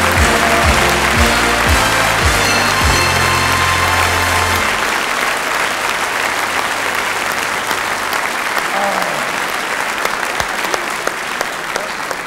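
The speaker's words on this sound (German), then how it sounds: "Da draußen wird gejubelt." A live television studio audience at the 1981 German show Wetten Dass..? breaks into loud, sustained applause and cheering, with low musical tones underneath early on before fading to steady clapping.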